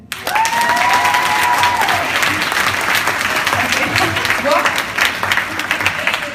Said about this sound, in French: Est-ce qu'on peut juste l'applaudir?